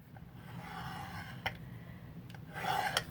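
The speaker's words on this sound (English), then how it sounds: "we're going to find our line so it's easier to do our scoring" Paper being scored along a ruled line for a gusset bag made of coffee-dyed paper: soft, close rasping strokes with a few brief sharper ticks, quiet and alone.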